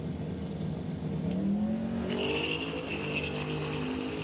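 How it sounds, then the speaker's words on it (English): A Ford Mustang drag car nicknamed Flipper launches hard down a drag strip in limited street racing, lifting its left rear tire. The engine roars loud and close, its pitch climbing steadily as the car accelerates away. "Hard launch as it lifts up the left rear tire down the racetrack"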